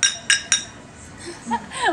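Glasses clink together in a toast, two sharp bright chinks in quick succession, followed by light clinking and faint voices in the background during a casual meal.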